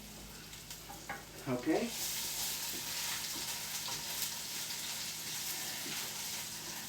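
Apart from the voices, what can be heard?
garlic and ginger stirred and frying in a pan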